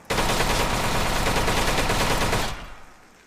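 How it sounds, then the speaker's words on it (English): Loud gunshot sound effects in the video game Misery, a dense rapid burst of fire lasting a few seconds, then cutting off into a short fading tail. "The gunshot sound effects still sound so loud."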